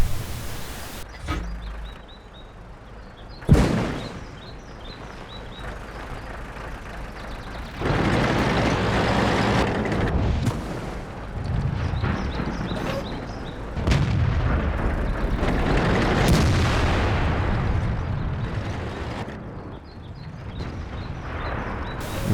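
World of Tanks tank battle in tier 7 matches with booming cannon shots, one sharp blast early followed by sustained loud rumbling gunfire and engine noise that swells and subsides over about twenty seconds, no speech.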